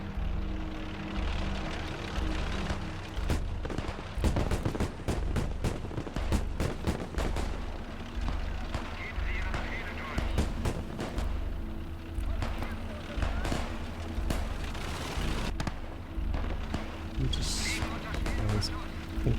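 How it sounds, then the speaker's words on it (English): Artillery fire in Call to Arms: Gates of Hell on the Eastern Front, Germany versus USSR, a 7.5 cm leIG gun among the battle sounds: repeated sharp booms and crackling gunfire in bursts over a steady engine rumble, with voices talking throughout. "I think there's artillery out there in the field."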